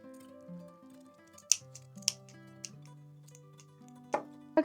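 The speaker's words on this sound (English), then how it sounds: "so I'm also going to cut this out" Scissors snip out a paper shape for a handmade craft, a few crisp isolated cuts spaced a second or two apart over soft background music.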